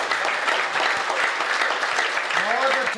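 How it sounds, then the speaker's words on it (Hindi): An audience at a public speech or poetry recital breaks into loud, sustained clapping, a dense even roar of hands with a voice rising over it near the end. "तालियां थोड़ी बड़ी कर दें आप"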